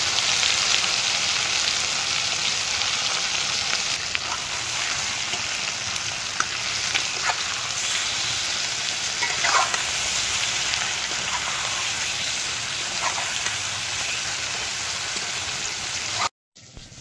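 Marinated shol fish fries in mustard oil with cumin seeds in a kadai, a loud dense crackling sizzle that holds steady throughout before cutting off abruptly at the very end.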